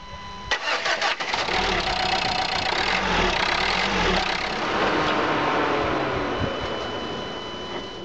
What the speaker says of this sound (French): On va pouvoir démarrer le moteur.